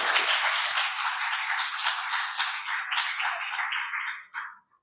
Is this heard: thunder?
no